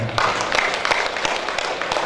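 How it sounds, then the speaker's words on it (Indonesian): A dense wash of crowd applause fills an installation ceremony for traders' association officials, sustained clapping throughout the short stretch with a faint voice underneath. "Tepuk tangan untuk kita semuanya."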